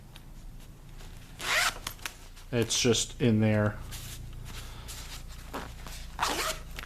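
Several quick zipper pulls, close and sharp, come in short bursts alongside rustling, while a person speaks briefly.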